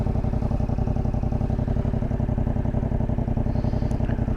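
Motorcycle engine pulsing steadily and close while the bike is ridden, a continuous clattering thrum that holds at an even level throughout, with no talk over it.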